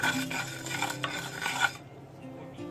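Urad dal roasting in a pan for coconut chutney powder, stirred with a gritty, rasping scrape in quick strokes for under two seconds before it drops to quiet background.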